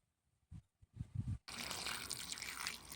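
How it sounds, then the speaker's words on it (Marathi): A few soft knocks and handling thumps, then running water splashes steadily as cut bitter gourd pieces are rinsed under it, close and continuous. "आता ती पाण्याने धुवून घ्यायची"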